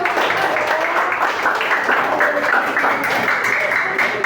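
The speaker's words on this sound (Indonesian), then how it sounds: "Tepuk tangan dong." Students applauding in a classroom, a steady run of clapping that lasts about four seconds with voices mixed in.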